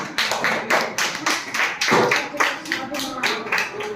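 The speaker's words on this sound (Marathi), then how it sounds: "प्राचीसाठी जोरात टाळ्या" Children's hands clapping in a classroom, a continuous run of loud, close, rhythmic claps that keeps going for the whole stretch.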